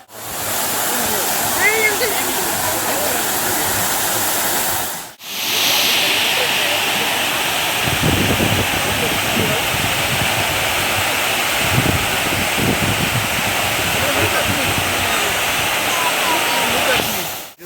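Loud, steady rush of water pouring over a dam at Brindavan Garden in Mysore, a broad continuous roar with a brief break midway, while people talk beneath it.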